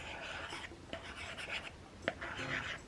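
A metal pencil tip scratches and rubs across a paper-like screen protector on an iPad, faint and close, with short strokes and small taps.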